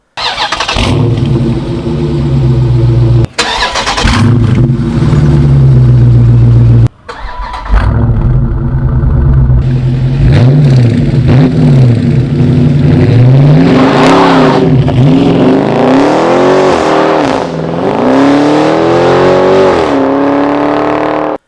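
A 2023 Dodge Scat Pack gas V8 with a 2.75-inch electronically controlled active exhaust starts up loud and close, then idles, cuts, and revs repeatedly in rising and falling sweeps.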